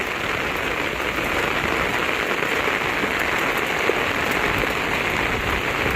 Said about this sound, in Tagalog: Sinasadya niya yan na mabasa siya sa ulan.